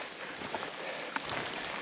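Rain falls steadily in Allegheny National Forest as a close, even hiss with scattered patters of drops hitting nearby surfaces.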